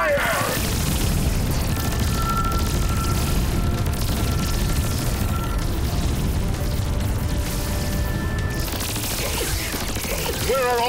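Cartoon blasters and hand cannons fire in a dense, continuous barrage of booms and zaps, loud and sustained, with voices heard over the battle din.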